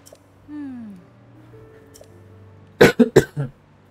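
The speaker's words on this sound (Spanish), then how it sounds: "Ahí la tos." A character in the Zelda Tears of the Kingdom video game coughs in a tight burst of about four loud, close, harsh coughs near the end, after a quieter stretch with a soft rising tone and faint background.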